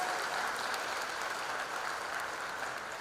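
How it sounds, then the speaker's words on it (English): An audience at a freshers' induction program gives applause, a steady, even wash of many hands clapping at moderate level, sustained without pause and with no voices over it. "Please give them a big applause"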